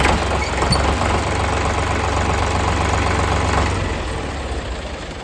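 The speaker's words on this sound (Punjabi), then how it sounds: "ਇਹ ਜਿਹੜਾ ਬਾਈ ਟਰੈਕਟਰ ਆ ਇੰਡੋ ਫਾਰਮ" An Indo Farm tractor engine idles with a steady low chugging rumble that eases slightly toward the end; no voices.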